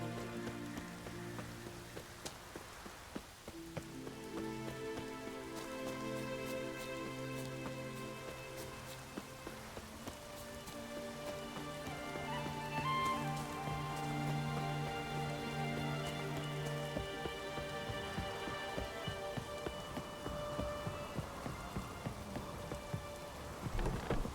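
Steady rain patters throughout, with drips and a low distant rumble, while tonal musical notes play over it; no voices.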